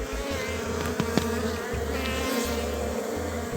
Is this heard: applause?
no